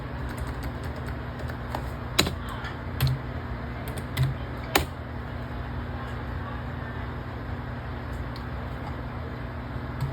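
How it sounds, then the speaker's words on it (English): Scattered clicks of typing on a computer keyboard, faint and irregular, sit under a steady background hum with occasional sharper taps. "I cannot type for the life of me."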